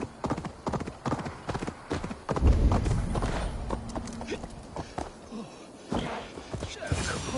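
A horse plods along at a slow walk in a video game, hooves clip-clopping in a steady rhythm with a brief snort, while someone talks over the steps.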